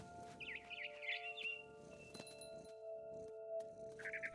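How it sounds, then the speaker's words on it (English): A barn swallow gives several quick, bright chirping bursts outside a window, faint and somewhat distant over a steady hum and scattered knocks, with a final chirp near the end. "I heard chirping outside my window. It was a barn swallow going back to her nest."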